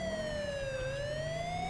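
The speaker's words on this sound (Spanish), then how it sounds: "yo aquí ya iría quitando las sirenas" A police siren from the LSPDFR police mod for a video game, escorting an ambulance, wails in a steady sweeping tone that dips and rises again, loud and close with no talk.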